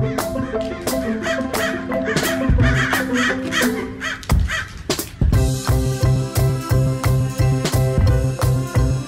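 Crows being fed caw loudly and repeatedly, a dense, overlapping chorus of harsh calls close by that keeps going in quick succession.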